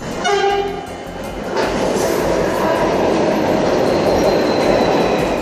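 A Delhi Metro train sounds a sustained horn blast, then runs past with a loud, steady rumble and wheel noise that fills the rest of the clip, with no one speaking.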